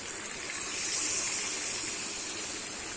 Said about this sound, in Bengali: এবারে আমি জলটা দিয়ে নেব।